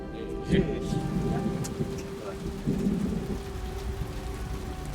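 Steady rain falls heavily, and low rumbles of thunder roll through twice beneath the continuous hiss of the downpour. No one speaks.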